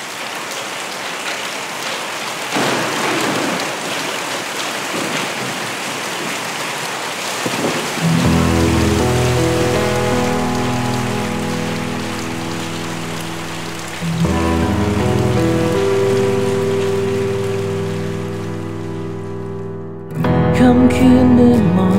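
Heavy rain pours steadily and loud throughout, with low rumbling thunder rolling in at intervals, sustained and close with no talking.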